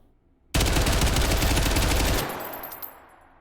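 Rapid automatic fire from a ModulMCX Spear with hybrid rounds in a video game, one loud dense burst of about two seconds that stops abruptly, followed by a short fading echo.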